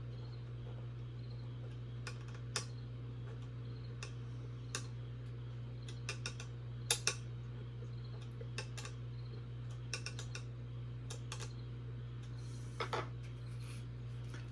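Small screws being tightened on a M.A.R.K robot kit give sparse, faint ticking clicks scattered irregularly over a steady low hum, with no talking.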